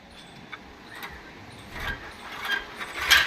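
A toy pulley lifts a weight, a series of light ratcheting clicks and squeaks that grow louder toward the end, with no talking.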